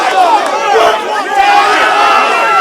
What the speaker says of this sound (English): Crowd